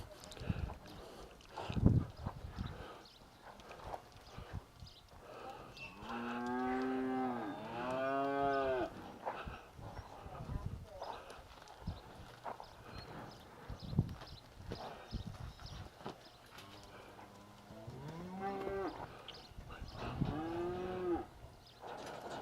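Cattle mooing outdoors, including a heifer: two long, drawn-out moos in the middle and a shorter one near the end, close and clear, with hoof clops, rustling and people talking nearby.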